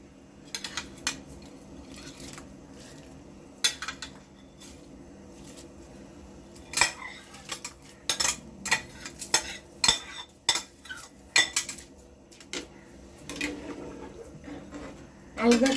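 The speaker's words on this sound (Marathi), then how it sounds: "चला तर मग आता आपण हे तांदूळ टाकून घेऊ याच्यामध्ये भिजवलेले" Soaked rice tipped into a pot of water for chicken fried rice and gently stirred, giving irregular clinks and scrapes of a spoon against metal with soft wet shuffling, close by, with someone speaking at times.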